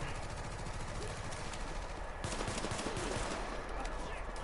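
Sustained automatic gunfire from The Division video game, a dense, loud stream of rapid shots filling the whole stretch with a slight surge midway, mixed with game ambience.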